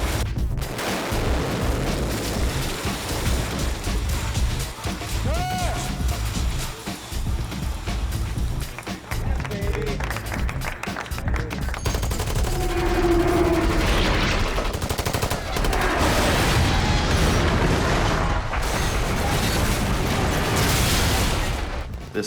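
Film set special-effects explosions with falling debris and pipes flipping up, heard as a dense, continuous roar of blasts and crackling rubble at steady high loudness throughout, with no talk.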